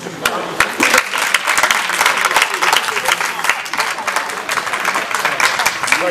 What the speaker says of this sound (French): On applaudit très fort Mamaja pour son intervention.